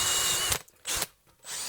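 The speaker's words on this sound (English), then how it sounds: "my wire wheel that I have for my drill." A drill spinning a wire wheel against brazed steel whirs loudly, then cuts out briefly twice as the brush is lifted and pressed back on, with no one talking.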